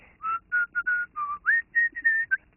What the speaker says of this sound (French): un des hommes de Carmen siffler cette chanson australienne, la danse du sac à dos